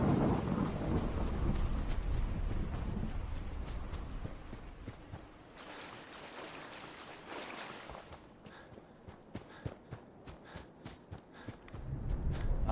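A rad storm in the video game Fallout 4 brings a heavy rumble of thunder and steady rain, then the roar eases into softer patter with scattered sharp ticks and footsteps before the rumble swells again.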